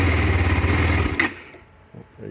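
KTM RC390 motorcycle fitted with an Akrapovic exhaust, running with a steady, loud low engine drone for about a second before cutting off, leaving only faint quiet sounds.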